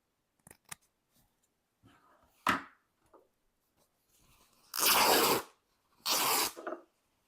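Scissors cut down Amazon packaging for a journal base, close up: a few small snips and rustles, then two longer, loud crunching cutting strokes through the material.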